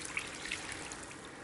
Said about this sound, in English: So now I can add in my water.